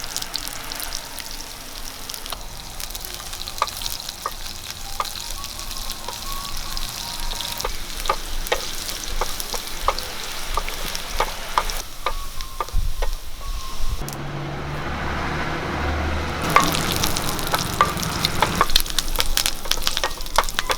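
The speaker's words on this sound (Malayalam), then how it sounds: "കടുകൊക്കെ താളിക്കാൻ വേണ്ടി നമുക്ക് കുറച്ച് വെളിച്ചെണ്ണ ഒഴിച്ചു കൊടുക്കാം" Mustard seeds and chopped shallots crackle and sizzle in hot coconut oil for a sardine curry tempering, a dense continuous frying hiss with scattered pops and stirring, close and steady, briefly dipping in the middle before resuming.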